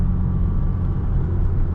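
Infiniti G37 with a six-speed manual and an exhaust leak idles in neutral with a loud, deep, steady engine rumble, heard close from inside the car.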